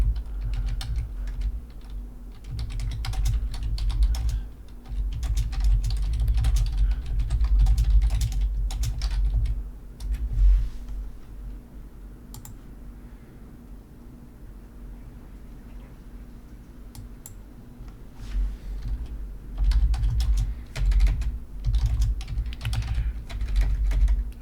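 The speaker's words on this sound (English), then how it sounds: "Obviously, I'm typing." Typing on a computer keyboard, a long stretch of rapid close key clicks and clacks in bursts, with a quieter lull in the middle before the fast tapping picks up again.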